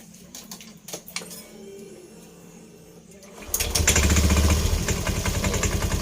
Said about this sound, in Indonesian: suara kemelotok yang ada di CVT ya guys ya. Ini motornya untuk motornya Scoopy YSP ya guys.